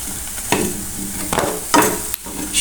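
Lentil and shrimp pakoras sizzle steadily in hot oil while being stirred and lifted out, with three or four sharp scraping bursts of a utensil against the pan over a constant frying hiss, no talk.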